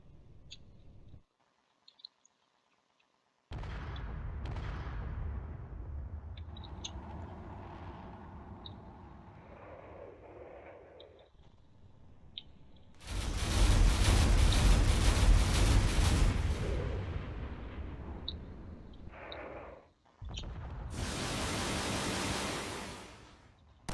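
Loud bursts of gunfire and cannon shots from drones battling in a space combat game, a heavy roaring barrage mid-clip and another near the end, over a steady game soundscape.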